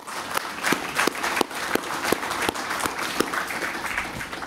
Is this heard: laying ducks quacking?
no